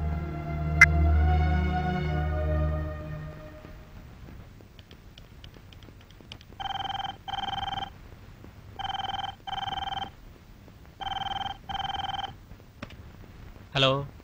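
A telephone rings at night in a Telugu horror film scene, giving four paired electronic ring bursts in a steady rhythm after a quiet opening with a faint tone, then a short sharp sound at the end.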